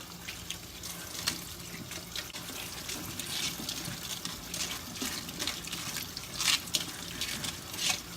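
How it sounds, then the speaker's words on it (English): Strawberries are rinsed under a running kitchen tap, giving a steady, close rush of water into a sink with splashes and drips on top, and no talk. "I'm going to rinse them out completely."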